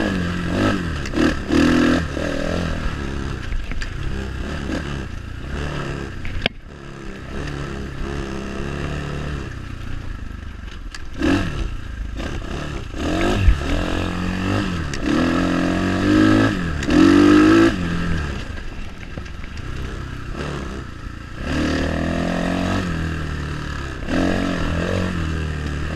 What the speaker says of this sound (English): I'm just going to let this video play so you can hear the bike